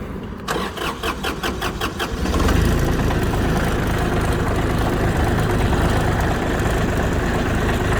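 A Kubota Aste A-17 mini tractor engine cranks with rapid starter pulses in cold weather, catches after about two seconds, then settles into a steady, loud, rumbling idle.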